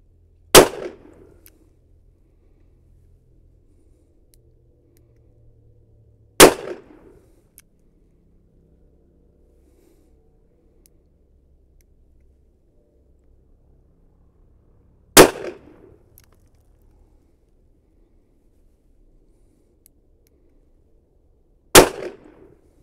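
Four sharp, loud gunshots from a Kimber K6s .357 Magnum revolver with a 2-inch barrel, spaced several seconds apart, each a sudden crack with a brief ringing decay and near silence between shots.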